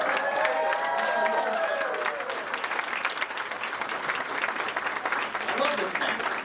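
An audience at a West Virginia political rally applauds a candidate for governor, a dense, sustained patter of clapping that carries on throughout, with a voice speaking over it in the first couple of seconds.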